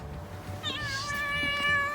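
A cat meows from inside a newly built homemade cat house outdoors, one drawn-out, clear meow rising from faint background noise and holding for about a second and a half.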